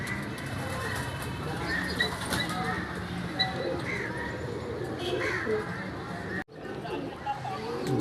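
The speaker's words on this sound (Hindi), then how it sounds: "आस्ता आस्ता बैठ रहे हैं कबूतर सारे।" Pigeons cooing as they settle on a rooftop. Soft, repeated coos and bird chatter sound close by, with human voices talking over them throughout.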